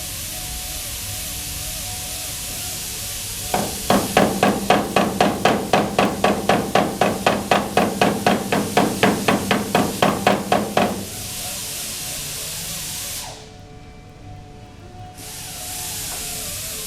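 Hammer taps land on a curved panel of a bedside table under repair, a steady run of about two dozen firm, evenly spaced blows close by, then a quiet room.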